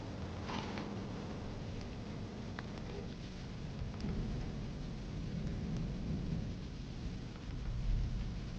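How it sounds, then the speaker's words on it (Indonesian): Sudden rain with thunder, a steady heavy downpour hissing continuously with low rumbling underneath and a swelling roll near the end, no voices. "tiba-tiba saja hujan turun"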